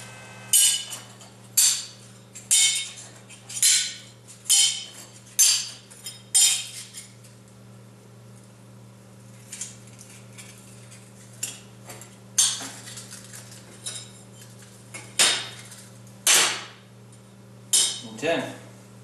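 Steel billets for knife making are stacked, giving sharp metallic clinks that come in a regular beat about once a second and then grow more irregular, heard close over a low steady hum.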